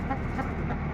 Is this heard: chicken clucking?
yes